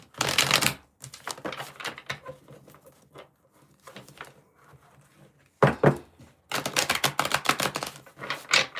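Crisp riffling bursts of tarot cards being shuffled, two main flurries of rapid papery flicks separated by quieter handling and soft taps, close and fairly loud.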